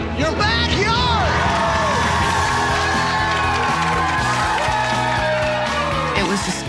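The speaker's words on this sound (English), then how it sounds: "It was just great to see everyone from Studio Percussion just cheering and yelling" A crowd cheers, whoops and yells loudly and steadily at a home makeover backyard reveal, many voices shouting over one another with excited shrieks throughout.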